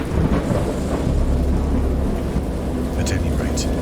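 Heavy thunderstorm in the horror game Dagon, a deep continuous rumble of thunder over dense rain, loud and close with a few sharper crackles near the end.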